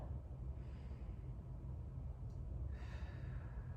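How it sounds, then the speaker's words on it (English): Slow breathing as a guided exercise: a soft inhale through the nose, then a longer, breathy exhale through pursed lips, both quiet and close over a low steady rumble. "Breathe in through your nose, out through your mouth, through pursed lips."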